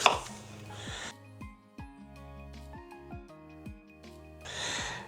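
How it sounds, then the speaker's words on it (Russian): A knife chopping an onion on a board, a steady series of about ten crisp, close cuts at an even rhythm, framed by short rustles of handling at the start and end. "я сейчас возьму одну луковицу, порежем"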